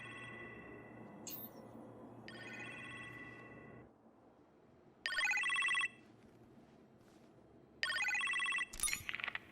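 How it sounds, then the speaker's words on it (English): An electronic phone ring chimes in short repeated bursts, separated by quieter stretches of low background hum, in the video game Iron Man VR. "You appear to have a phone call in the kitchen"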